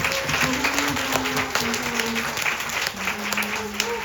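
An audience at an album listening session for a singer gives a sustained round of applause, with dense, even clapping from a small crowd that continues throughout.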